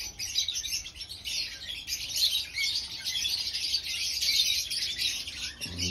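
African lovebirds chirp in a small aviary, a dense, steady chorus of high, bright tweets close by with no talk.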